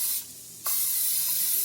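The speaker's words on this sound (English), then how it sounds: "put some more spray in there" Cooking spray is sprayed into a pan in two hissing bursts. A short spray is followed by a brief pause, then a longer, loud, steady hiss close by.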